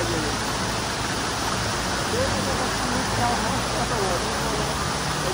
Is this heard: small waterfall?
yes